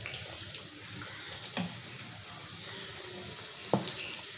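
Potato snacks fry in oil over a medium flame, giving a quiet, continuous bubbling sizzle with a couple of brief clinks, heard alone at low volume.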